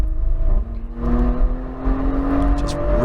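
The engine of a 2020 Porsche Macan Turbo revs hard on a race track, its close, steady tone climbing in pitch through the gear with a loud mechanical drone.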